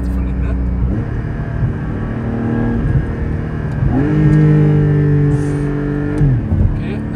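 A Porsche 718 GT4 with PDK gearbox accelerates on the autobahn in manual mode, its engine loud and close, rising in pitch through two revving pulls with shifts between them, while people talk inside the car.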